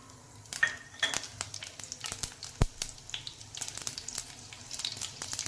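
Mustard seeds and green chillies fry in a ladleful of hot oil, crackling and popping in quick irregular bursts with a few sharp louder spits. A spoon clinks against the pan now and then.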